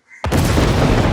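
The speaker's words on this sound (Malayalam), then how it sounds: "അവന്റെ തലയിൽ ഇടുത്തിയും കൂടെ വീഴട്ടെ" A thunderbolt strike effect in a Malayalam comedy bursts in as a sudden loud boom after near silence, then rolls on as a dense, sustained rumbling crackle for about a second.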